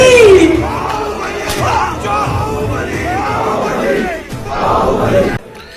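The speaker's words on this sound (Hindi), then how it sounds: "जब क्राउड चिल्लाने लगी और कंफ्यूजन का माहौल रचा था" A large film crowd in Bahubali yells in confusion, a dense, loud wall of overlapping shouts and battle cries that runs without a break for about five seconds before cutting off.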